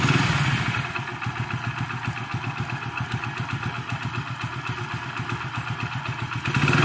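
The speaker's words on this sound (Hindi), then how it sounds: "अब बाइक को स्टार्ट करके देखते हैं इंजन के साउंड कैसा है" A Hero Splendor motorcycle engine idles steadily after an engine flush, its rapid even putter holding close and loud for the whole stretch with no talking over it.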